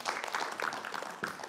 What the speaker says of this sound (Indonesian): Tepuk tangan untuk Mbak Rahma